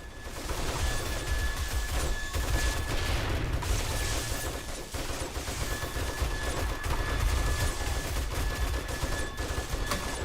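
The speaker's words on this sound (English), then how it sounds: "Oh, I got the turrets on. I can hear them making noise." Automated base turrets in 7 Days to Die fire in rapid, sustained machine-gun bursts against a swarming horde, a dense loud rattle filling the whole stretch with no pauses.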